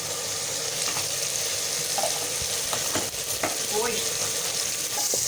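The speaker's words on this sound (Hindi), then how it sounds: "अब हम इसको फ्राई करने लगे हैं।" Half a kilo of chicken frying in a pot for achari biryani, a steady loud sizzle with occasional stirring scrapes and clinks throughout.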